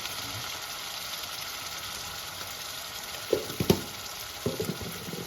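Taro stolons sizzle steadily in a pan with spices, a dense continuous fry with a few soft stirring knocks near the end, close and without any talk.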